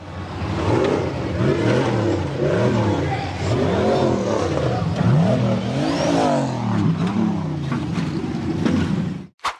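A black and white checkered off-road buggy's engine revs hard and repeatedly while it charges up a rocky slope in a 4x4 hill climb, loud and close, rising and falling in pitch, with voices faintly underneath, then cutting off abruptly.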